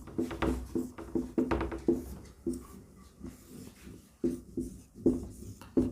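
Hand-writing of a log-function equation for a JEE Mains B.Arch maths problem: a series of brisk pen or marker strokes scratching along the surface in irregular bursts, fairly close, with no talk over them.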